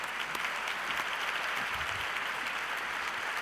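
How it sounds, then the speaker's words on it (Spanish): A conference audience applauds a speaker, a dense, steady wash of many hands clapping at once, continuous and even throughout with no voices on top. "Un fuerte aplauso para ella"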